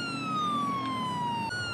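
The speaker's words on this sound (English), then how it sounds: "I'm going to get my sirens turned off here" A police car siren in GTA 5 on an unmarked CHP Camaro ZL1 wails loud and steady, its pitch sliding slowly downward before it jumps and carries on, with no talk over it.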